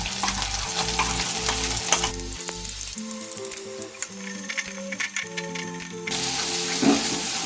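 Flat bean paste dropped into fried spice masala in hot oil, crackling and sizzling steadily up close, with stirring scrapes and a low background tone, no voices.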